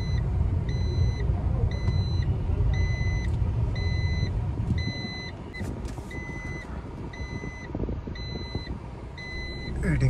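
A car is driven into a parking area at a book fair venue, with a steady engine and road rumble throughout and a repeating electronic reversing beep pulsing at a regular rhythm, fairly close.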